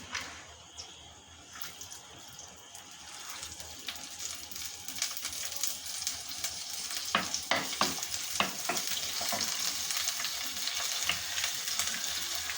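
Ginger, garlic and green chillies frying in oil for a home-style crab curry, a sizzle that grows louder and fuller over time, with stirring scrapes and spatula clicks through the second half.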